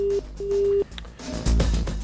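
A telephone line gives off a steady tone in two bursts, then falls away into a jumble of clicks and noisy handling sounds, all fairly loud, with no speech.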